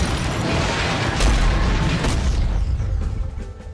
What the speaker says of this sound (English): And explosions.